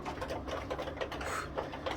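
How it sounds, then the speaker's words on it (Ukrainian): Ventilation fan running in a chicken coop fitted with an automatic feeder for 150 hens, giving a steady low mechanical hum with light rattling and no voices. "Вентилятор почав витягати, витягувати."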